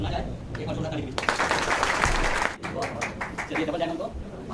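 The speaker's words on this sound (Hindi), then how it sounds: "एक बार जोरदार ताली दीजिए" An audience at a business meeting breaks into hearty applause, a burst of dense clapping that swells after a moment, dips briefly, then continues steadily.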